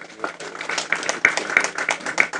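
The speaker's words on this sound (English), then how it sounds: "Let's clap for him again." Scattered clapping from a workshop audience in a hotel, a few sharp claps at uneven intervals mixed with talking.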